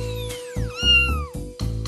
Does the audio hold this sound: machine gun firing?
no